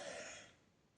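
A woman, still unwell with a lingering cough, gives one short, close throat clear that fades within a second.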